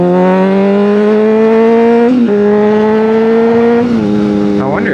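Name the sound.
voice imitating a diesel truck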